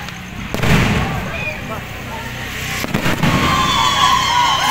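Fireworks crackle and boom repeatedly at a distance, with a steady rumble of bursts and people talking faintly nearby.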